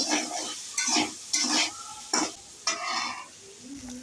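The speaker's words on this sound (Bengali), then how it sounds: "ওই তেলে আবার সয়াবিন সিদ্ধ সয়াবিনগুলো ঢেলে হলুদ এবং লবণ দিয়ে একটু লাল লাল করে ভেজে নিব" Boiled soybean chunks fry with turmeric and salt in oil, stirred in about six distinct scraping strokes over a soft sizzle, close and fairly loud, no voices.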